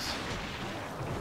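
Bombs explode in the Monster Hunter video game, a dense rumbling blast that fills the whole brief moment at low level.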